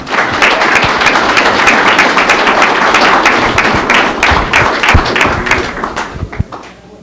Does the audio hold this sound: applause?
yes